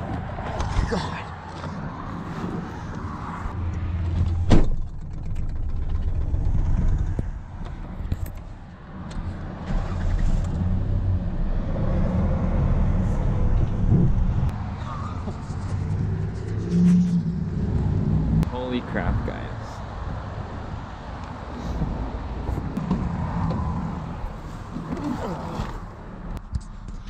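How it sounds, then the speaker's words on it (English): Lifted Ford Ranger pickup truck driving, its engine a steady low rumble from inside the cab with a few bumps and thuds, under people talking. "First time driving the Ranger while it's lifted."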